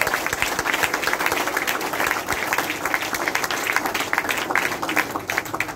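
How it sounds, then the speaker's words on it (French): Steady applause from an assembled crowd honoring the first lady at a gathering, dense continuous clapping at moderate volume throughout with no pause. "Applaudissez pour la première dame."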